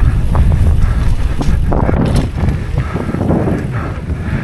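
Strong wind buffets the microphone outdoors in a steady, loud roar with gusty low rumble throughout, no talk.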